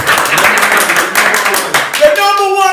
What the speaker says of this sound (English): Can we get a clap for that?